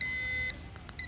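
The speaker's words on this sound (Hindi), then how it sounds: "उन्होंने बजर बजा दिया था" An electronic buzzer on a televised quiz show, pressed by a contestant, gives a short steady high-pitched tone for about half a second, then cuts off, followed by faint clicks and a brief second beep.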